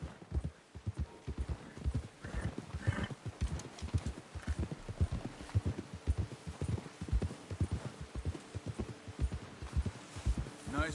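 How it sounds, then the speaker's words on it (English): Horse hooves clip-clopping in the Red Dead Redemption 2 video game, a steady rapid rhythm of close thudding hoof beats running throughout with low rumble underneath. "Get a hold of that horse, Arthur"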